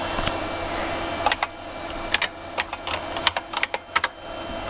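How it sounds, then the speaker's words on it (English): One-handed typing on an IBM Model M keyboard: sparse, irregular sharp key clacks, close and fairly loud, with short pauses between bursts and no talking. "Typing with one hand is not my specialty."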